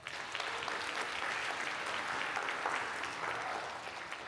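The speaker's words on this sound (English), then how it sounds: "can we give a round of applause to the graduates on tonight for you all's accomplishments?" An audience applauds graduates at an evening motivational event, the clapping steady and continuous, moderately distant and fairly soft throughout, with no voices over it.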